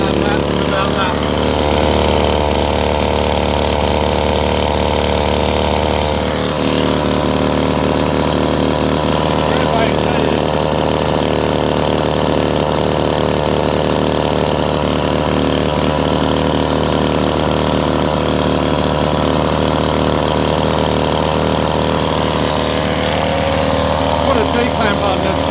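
A whipper snipper motor driving a homemade generator runs continuously under load, a loud, close, steady buzzing engine drone with a few slight wavers, and a voice talks over it.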